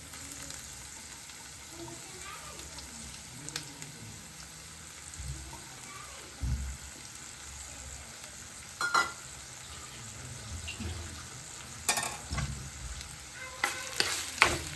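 Crushed ingredients frying and being stirred in a pan, with a soft steady sizzle and occasional close scraping and clinking of the spoon, with no talking.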